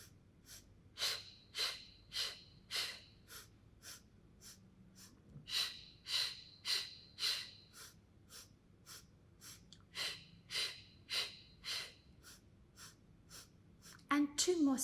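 Rhythmic breathing during an intermediate Pilates mat exercise, with a steady series of close, audible breaths and sharp exhales in quick paired pulses, a brief rustle at the end.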